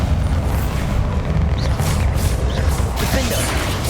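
Bombarda blasting spell going off in Hogwarts Legacy, a dense rumbling explosive roar that fills the whole stretch with sustained low-end boom and crashing debris, loud and close.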